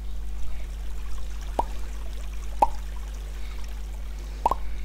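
Waterfall water in Minetest, heard as three sparse, crisp drips or plops spaced about a second apart over a faint steady hum, with no voices.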